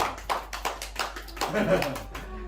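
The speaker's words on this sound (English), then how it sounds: "Let's give Thomas a big round of applause." A few people clap at a chess lesson after a checkmate, a short, sparse burst of hand claps mixed with a speaking voice.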